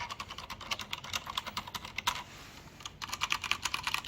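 Quiet, muffled typing on a Leopold NP900RBT mechanical keyboard with silent red switches, a steady run of soft clicks with a short pause, close and fairly faint.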